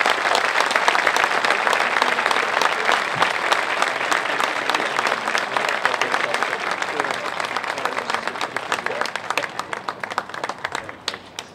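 An audience at an all-class school reunion induction ceremony applauds honored alumni, a long, full burst of crowd clapping that stays loud and dense before tapering slightly near the end.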